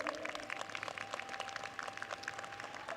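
Graduation audience at a New York City College of Technology commencement applauds Brooklyn Borough President Antonio Reynoso. The clapping is dense and continuous, and it sounds distant and faint across a large hall.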